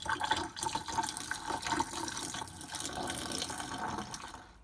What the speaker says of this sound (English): So last, we need to protect all of our drain lines, so we'll pour some RV antifreeze down those.